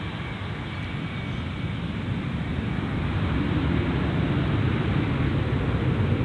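A jet aircraft passing near Gold Coast Airport makes a broad, steady roar that slowly grows louder, heard outdoors with no talk over it.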